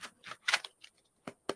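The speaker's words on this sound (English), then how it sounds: "If the shuffling gets too loud" Tarot cards are shuffled in several quick, soft riffling bursts followed by two sharp snaps, faint and close with gaps between.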